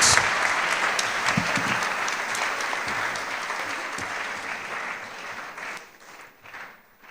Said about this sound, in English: A round of applause for our skillful Vice President